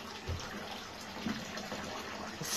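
Bathwater runs and splashes in a tub during a puppy's first bath, a steady close wash of water with small sloshing surges and no talk.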